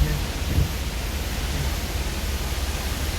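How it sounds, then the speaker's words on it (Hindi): Steady broadband rush of a waterfall in a mountain valley, a dense, constant hiss and roar filling the whole clip with no voices over it. "झरने की आवाज़"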